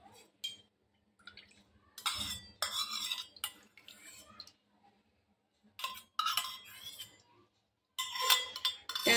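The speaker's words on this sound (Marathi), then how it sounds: "1 कप तूप घालून घेते" Ghee melting in a kadhai on a gas stove for sheera, stirred with a metal spoon: intermittent bursts of scraping and clinking against the pan, separated by quiet gaps.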